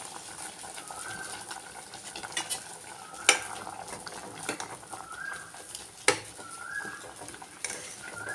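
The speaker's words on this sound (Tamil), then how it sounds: "காய் முக்கால்வாசி வந்துடுச்சு இப்போ இந்த மாங்காயை போட்டுடணும்" Raw mango pieces go into a pot of simmering vegetable sambar, with a low bubbling background and a few sharp clinks and scrapes of a utensil against the pot, close and without talking.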